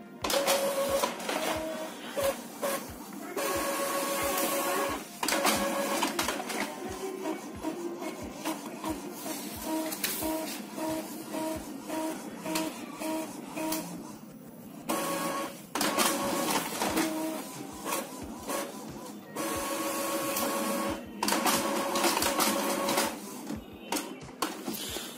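An office printer runs through an Excel page, a steady mechanical whirring with rhythmic clicks and feed clunks that pauses briefly and resumes, loud and close, with no talking.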